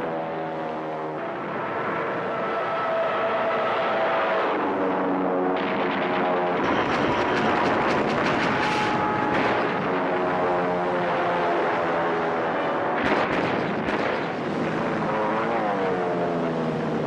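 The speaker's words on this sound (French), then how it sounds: "un 4e porte-avions japonais, le Hiryu, lance ses bombardiers à leur poursuite" Japanese bomber aircraft at the Battle of Midway drone loudly with a steady engine tone, swelling as they pass, joined by sharp bursts that sound like gunfire and explosions, with a musical score underneath.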